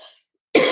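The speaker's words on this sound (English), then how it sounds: "I'm gonna start coughing" A single sharp, loud cough bursts out after a short silence, preceded by a faint breathy sound.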